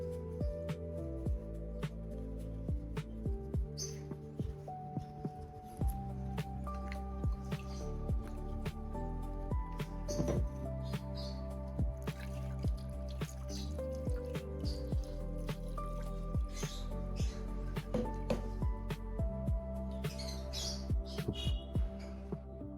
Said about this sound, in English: Run it gently under some water, get into all the little crevices around the base